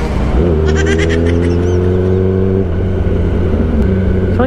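2023 Kawasaki ZX10R sport motorcycle fitted with an Austin Racing exhaust, a loud continuous engine drone with steady pitch and a brief rising rev, close and without talk.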